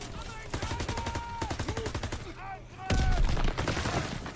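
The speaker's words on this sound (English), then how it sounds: "I'm being shot from behind." Call of Duty WW2 campaign gunfire: rapid automatic bursts mixed with whistling, wavering tones, growing louder and denser near the end.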